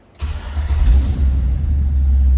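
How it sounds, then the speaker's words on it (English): A 1985 Chevrolet C10 Silverado pickup with an EFI engine cranks briefly and catches at once, settling into a loud, steady low idle up close. "Starts very easily, of course, with the EFI system."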